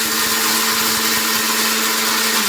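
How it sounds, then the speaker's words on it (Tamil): A mixer grinder coarsely grinds spices in its jar, a loud, steady motor whine and whirring roar held close and continuous with no pauses. "ஆல்ரெடி ஜாரில் போட்டு வச்சுருக்கோம்ல, அது சும்மா கொரப்பாக அரைச்சா போதும்"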